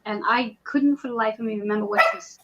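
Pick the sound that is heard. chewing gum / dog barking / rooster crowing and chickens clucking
dog barking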